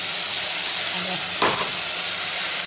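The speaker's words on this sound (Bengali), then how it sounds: "পেঁয়াজটা ভাজা হচ্ছে, নুন দিয়ে দিলাম" Steady, dense sizzle of onions frying in a hot pan, continuous and fairly loud, with a brief louder burst of crackling midway.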